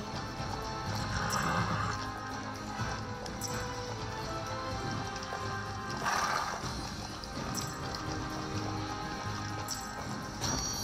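A horse in a video game gallops with rhythmic clip-clop hooves and repeated loud neighs and whinnies, over a soft game music bed.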